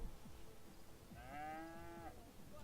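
A cow in The Sims 3 gives a single drawn-out moo after being cow tipped, clear and mid-distance over a low rhythmic background of game sound.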